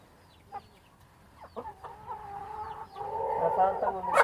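Chickens cluck inside a farm shed where they shelter from the rain. Scattered soft clucks at first grow denser and louder toward the end, over a quiet background.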